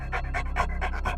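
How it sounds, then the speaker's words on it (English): A dog pants in quick, steady rhythmic breaths, close and fairly loud, with no other sounds or voices. "Except Bruno, sitting in the middle of the room, covered in soil, panting"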